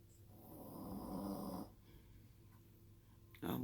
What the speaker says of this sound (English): That's Achilles snoring.